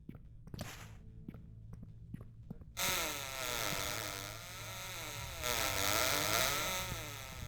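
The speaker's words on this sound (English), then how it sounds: "Why do they sound like little chainsaws?" Enemies in the video game Cultic give off a loud, continuous buzzing whine like little chainsaws, with wavering pitch. It starts abruptly after a few seconds of scattered thumps and footsteps.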